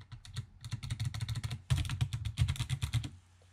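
Fast, crisp typing on a new computer keyboard, a close rapid run of clacky keystrokes in two bursts with a brief pause between, alone and fairly quiet.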